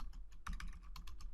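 Quick, close keystrokes on a computer keyboard, a brief burst of light clicking at an uneven typing pace, quiet and alone with no voices.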